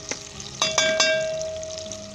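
Chicken and potato shorba ingredients frying in a pan, a steady close sizzle with a few sharp stirring clatters of a spoon against the pot.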